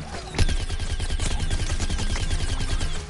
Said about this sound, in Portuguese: Olha lá, mano, esse tiro da plantinha é monstro